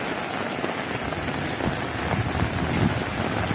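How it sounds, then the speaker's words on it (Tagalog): Dense, steady downpour of heavy rain pattering hard on surfaces, close and continuous. "malakas na talaga yung ulan"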